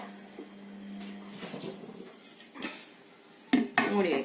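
A lid is fitted onto a container of fruit soaking in blueberry syrup, a few hard plastic knocks and clacks near the end after quieter handling noises, with talk in the background.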